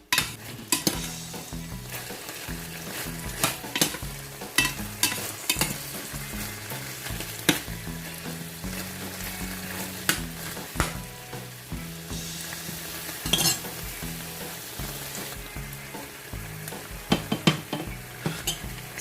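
Broccoli stirred in a pan with oyster sauce and sweet chili sauce, a steady sizzle broken by repeated scraping and clacks of a utensil against the pan, close and fairly loud, with no talk.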